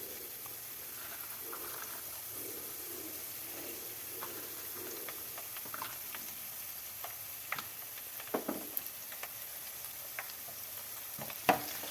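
Cut green chillies frying in oil for Kerala-style mango pickle, a soft continuous sizzle with intermittent scraping stirs and small pops, fairly quiet and close.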